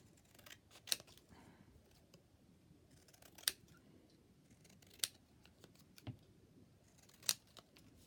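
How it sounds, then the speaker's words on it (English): Scissors cut paper for a Christmas journal with sparse, crisp snips about every one to two seconds over a quiet room background, and no talking is heard. "Very bad cutting going on here."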